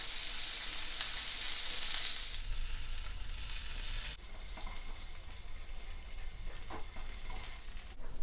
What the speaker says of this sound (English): Now I'm just going to flip my shrimp